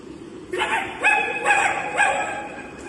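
A human voice imitates a dog barking, giving four quick, close woofs in a row.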